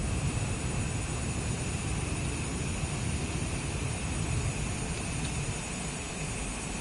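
Boeing airliner engines in Microsoft Flight Simulator 2024 give a steady, loud broadband roar with a faint high whine, continuous and unchanging throughout with no talk.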